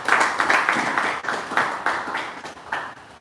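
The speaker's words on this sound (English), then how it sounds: "we want to give her again another round of applause" A round of applause at an education training workshop, close and fairly loud clapping from a smaller group that comes in uneven surges rather than a smooth roar.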